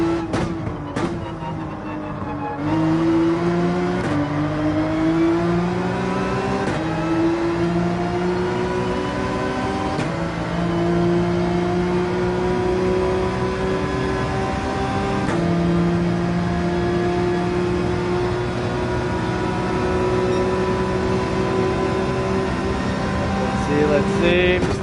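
A Porsche 911 race car in Gran Turismo 7, its engine droning and climbing in pitch through repeated gear changes, close and continuous for the whole lap, with someone talking over it.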